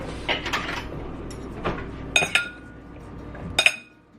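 Vegetables tossed with tamari and balsamic vinegar in a bowl for a vegan dinner, giving a few quick clinks and clatters of utensil against dish, close and fairly soft, with no talking.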